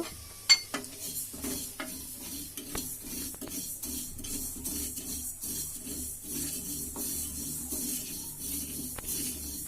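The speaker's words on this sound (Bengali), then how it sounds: "সেই কড়াইয়ে" Mustard seeds dry-fry in a wok for a jujube and star fruit pickle, making a quiet hiss scattered with small pops and clicks, plus a sharp metallic knock near the start.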